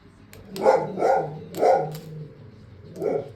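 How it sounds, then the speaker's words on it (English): Lola, a pet dog, barks four times indoors at close range, with short gaps between barks; the last one comes after a brief pause. "That's my lovely dog Lola."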